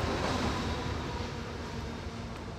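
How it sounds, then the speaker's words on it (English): A southbound MARC commuter train of the Maryland Area Regional Commuter service runs along the Northeast Corridor near Halethorpe station, giving a steady, broad rumble that holds at a fairly loud level for the whole stretch and eases slightly toward the end, with no voices. "In another few minutes, up comes a southbound MARC train, Maryland Area Regional Commuter."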